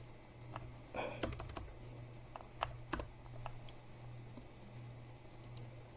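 Quick bursts of typing on a computer keyboard, a few clustered clacks then scattered single taps over a low steady hum.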